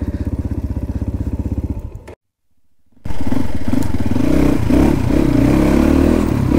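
A Cross Fire motorcycle engine runs loud and close while riding off-road, a steady rhythmic chugging that cuts out for about a second and then returns rougher with revving.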